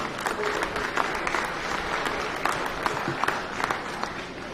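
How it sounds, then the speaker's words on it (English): Steady applause from a crowd at a county fair swine show fills the whole stretch, dense clapping with a few sharper claps standing out, loud and continuous. "let's go ahead and give them a nice round of applause again on a great job well done"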